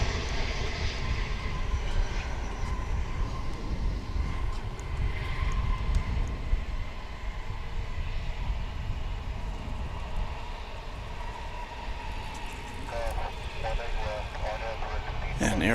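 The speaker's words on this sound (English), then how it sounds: "An Airbus of the 321 variety." An American Airlines Airbus A321 arriving at Dallas Fort Worth airport rumbles with a broad, steady engine drone, medium loud and continuous, while people talk over it and a brief clatter sounds near the end.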